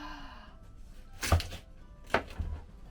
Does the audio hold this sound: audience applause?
no